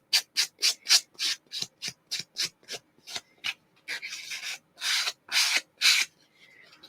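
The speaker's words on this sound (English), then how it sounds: "Do the sanding under the table away from the microphone." A sanding block rubs across a surface in quick rhythmic strokes, a dozen short rasping passes followed by a few longer, louder sweeps, close and isolated.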